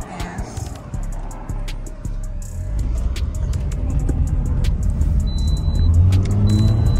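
A Toyota car accelerating, its engine note rising and growing louder as it pulls away, with a few clicks and knocks over the rumble.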